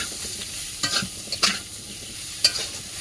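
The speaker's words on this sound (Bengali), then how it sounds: "তরকারিটা আমি এবার কষিয়ে নেব" A vegetable curry sautéing in a pan over a strong flame, a continuous close sizzle broken by a few sharp scrapes and knocks of a spoon stirring.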